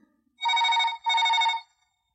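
A telephone rings on an outgoing call, heard as two long, steady ringback bursts close together, each about a second long, with no talk.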